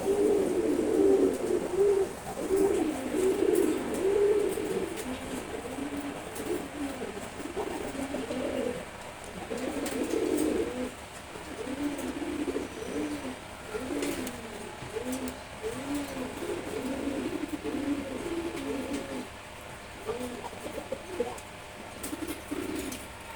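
A pair of Silver Gorra pigeons coo repeatedly at close range, soft rolling low calls in a steady run of phrases with brief pauses between them, and no talking.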